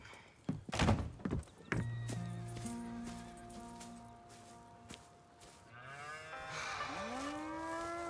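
Cattle in Red Dead Redemption 2 moo several times in long, drawn-out calls, with a few thuds and hoof clops early on in a quiet setting.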